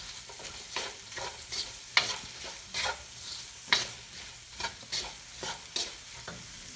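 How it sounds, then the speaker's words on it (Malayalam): Onions with salt sautéing in a pan for chicken masala rice, a steady sizzle broken by repeated scraping stirs at a regular rhythm, close and fairly loud with no talking. "ഇതിലേക്ക് കുറച്ച് ഉപ്പൂടെ ചേർത്ത് നമുക്ക് വഴറ്റാം. ഇനി ഈ ഉള്ളി നന്നായിട്ടൊന്ന് വഴണ്ട് വരണം."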